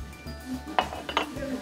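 Ceramic dishes clinking while being handled in a consignment store: two sharp close clinks over a low room hum, with no one talking.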